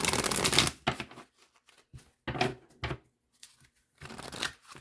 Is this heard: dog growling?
no